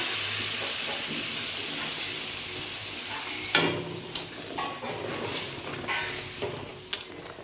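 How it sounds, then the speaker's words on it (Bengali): Hot water poured into a pan of vetki fish curry (teljhal) to form the gravy, giving a steady sizzling hiss with a few sharp clanks and splashes, close and moderately loud, with no talking. "এখন আমি অন্য একটি পাত্রে গরম জল করেছি, সেটি এখানে ঝোল হিসাবে দিয়ে দেব।"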